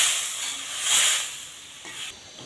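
Hot water hits a pan of frying rohu fish head for a Bengali muri ghonto, giving a bright steamy sizzle that swells, peaks and then settles into a softer hiss.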